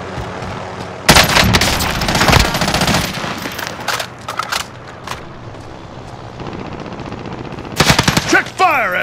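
Bursts of automatic gunfire from Call of Duty: Modern Warfare, loud rapid rattling volleys with a lull in between and another burst near the end, over game background sound.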